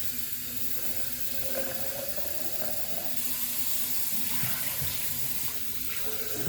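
Something being rinsed out under a running kitchen tap, a continuous close rush of water splashing into a sink, steady throughout with slight shifts in tone.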